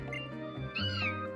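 Cartoonish cat meows from the Pokemon Alpha Sapphire video game, a few drawn-out mewing cries, close and clear, with game music beneath and no talk.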